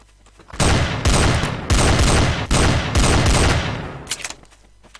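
Long, loud bursts of rapid automatic gunfire from the video game Garry's Mod, with several sustained volleys in close succession and only brief gaps between them.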